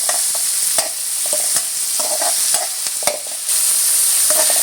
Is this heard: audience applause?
no